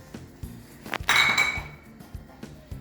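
Onions and tomatoes go into a cooking pot for a beef stew. A few sharp clinks of a utensil on metal lead into a brief hissing burst as the vegetables land, followed by scattered light taps.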